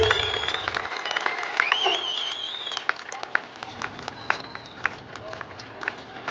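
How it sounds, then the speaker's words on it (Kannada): Scattered clapping from a village audience at a children's mallakhamb pole display, a few sharp claps standing out over a faint crowd murmur, with some tonal background sound early on. "ಎಲ್ಲರೂ ಜೋರಾಗಿ ಚಪ್ಪಾಳೆ"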